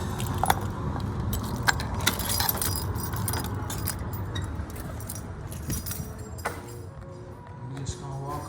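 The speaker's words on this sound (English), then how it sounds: "Gotta get the keys out" A large ring of janitor keys jangles and clinks close by for several seconds at a barbershop under renovation, over a steady low hum, with a few sharper metallic chinks.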